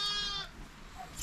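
A sheep at shearing time gives a short, close bleat at the start, followed by a moment of quiet farmyard background.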